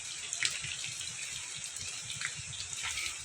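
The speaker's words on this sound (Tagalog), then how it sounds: "Lalim ng sapa" Water flowing in a creek in the provincial countryside, a steady faint rushing and trickling hiss with a few small splashy bubbles, no voices.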